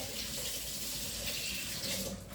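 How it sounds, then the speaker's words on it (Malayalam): A kitchen tap runs steadily as hands are washed under it during home cooking, a continuous close, even hiss of flowing water with no break. "ഇനി കൈ കഴുകി തുടച്ചിട്ട് വേണം."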